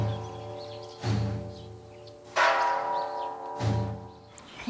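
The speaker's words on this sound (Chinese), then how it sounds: "我们5点要敲钟" A large bell is struck three times at 5 o'clock on a farm, each loud ringing strike followed by a long, slowly fading hum, spaced about one and a half seconds apart with no voices.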